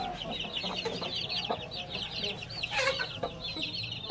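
Chickens cluck continuously inside a crowded farm coop that also holds chicks. Soft, repeated, overlapping clucks and chirps run throughout, with a few louder calls and a background bustle.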